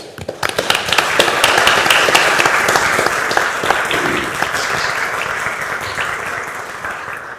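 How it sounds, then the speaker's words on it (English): Audience applause fills a county fiscal court meeting, a dense steady clapping from a room of attendees that rises quickly and holds at a fairly loud level throughout, with no talk over it. "I want to give them a round of applause."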